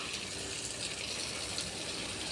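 Water poured outdoors while watering a garden, a steady, full gushing splash up close that runs without pause.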